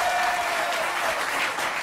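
Studio audience applause fills the room on a television talk show, a dense, steady clapping from many hands, fairly close and sustained throughout without pause.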